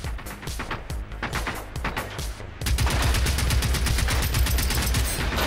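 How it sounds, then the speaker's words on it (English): Rapid automatic gunfire in the Generation Zero video game, a steady stream of sharp shots that grows louder and denser halfway through, continuing without pause to the end. "Something is definitely shooting at me."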